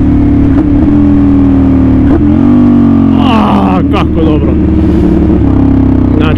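A Ducati Monster 696 motorcycle engine runs loud and close, holding a rough steady note with several sharp revs and pitch swings, while someone talks over it.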